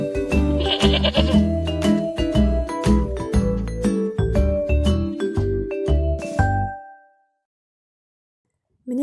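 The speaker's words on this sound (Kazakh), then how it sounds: "Ешкі қой сияқты маңырайды." Sheep and goats bleat in a loud, overlapping chorus of wavering cries with faint jingling bells, continuing for several seconds before dropping to silence, then a brief cry returns at the end.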